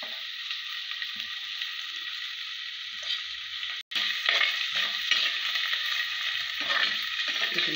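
Chopped onion frying in a pan for a traditional fish curry: a steady, close hissing sizzle that stays even throughout, with a brief break in the middle and faint stirring.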